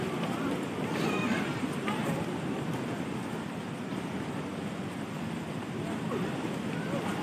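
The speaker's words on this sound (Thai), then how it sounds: "ตอนนี้น้ำเสียงน้ำตกก็เริ่มแรงมา" The Wang Gang Su waterfall roars in a constant broadband rush, with people's voices heard over the steady water noise.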